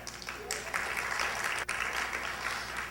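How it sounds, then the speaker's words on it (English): Audience applause for Sheila at an inspirational talk, a broad wash of many hands clapping that holds steady and fairly loud, with speech mixed in. "Yes, I think, yeah, you should applaud her."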